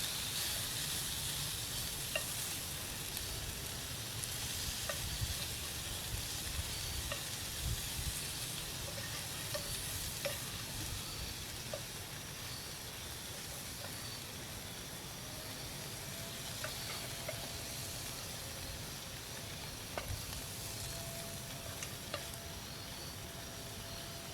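Fish crisping and browning in a pan over a campfire in the woods, a dense steady sizzle with scattered pops and crackles, loud and close throughout with no talking.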